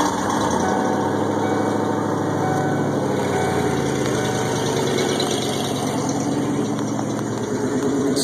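A 1996 Ford Bronco idles after a cold start on a near-freezing day, exhaust fitted but tailpipe missing, giving a loud, steady, close-up engine drone that stays even throughout.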